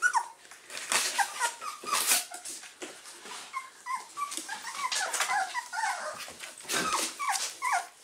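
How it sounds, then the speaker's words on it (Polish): Wolf spitz puppies whimper and yip in a rapid, high-pitched stream of soft cries, several small voices overlapping closely and continuously throughout. "To jest piesek zwany Pastorem."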